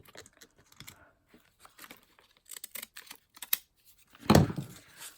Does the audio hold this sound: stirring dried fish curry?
no